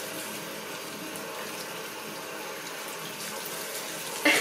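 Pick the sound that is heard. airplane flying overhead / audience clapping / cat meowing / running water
running water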